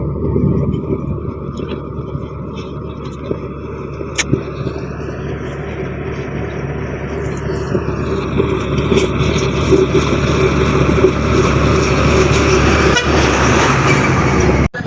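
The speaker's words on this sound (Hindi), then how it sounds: "ट्रक वगैरह आ रहे हैं।" Trucks pass along a road, engines rumbling steadily and growing louder, with a long horn toot near the start and a brief honk toward the end.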